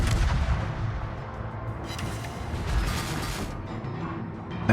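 Warship guns fire in a naval video game, sending heavy booming salvos and rumbling blasts that fill the whole stretch, loud and dense with no voices.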